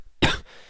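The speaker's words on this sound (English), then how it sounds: "Sorry if I cough a little bit." A single sharp cough from a man who is feeling sick, close and loud, lasting a fraction of a second and followed by quiet room tone.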